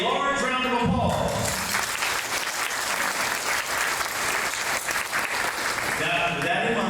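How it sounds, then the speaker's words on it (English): A large round of applause from the audience at a Chamber of Commerce annual awards dinner, a dense, sustained roar of many clapping hands filling the room, with a voice speaking briefly at the start and end. "Would you please give yourselves a large round of applause?"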